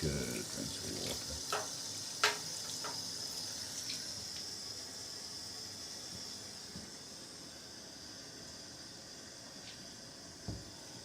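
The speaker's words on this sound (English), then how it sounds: "Good rinse with water." Tap water runs steadily into a sink as small items are rinsed one by one, a constant close hiss with a few brief splashes and knocks, louder at the start.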